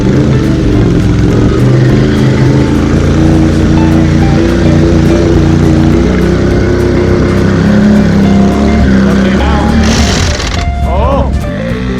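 2018 Can-Am Renegade XMR 1000R ATV engine running loud and close, a continuous rough throaty drone with shifting pitch and revving, a voice briefly heard near the end.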